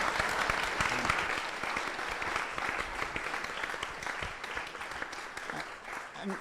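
Sustained applause from a symposium audience on AI and ethics, a dense, steady wash of many hands clapping at full strength throughout, with no voices breaking through.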